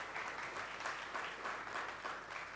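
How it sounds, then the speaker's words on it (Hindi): An audience claps for Ankit at a student parliament gathering in Bihar. The applause is soft and distant, and it runs continuously with slight rhythmic swells. "तो ये सबसे पहले अंकित के लिए बहुत बहुत तालियां सबकी"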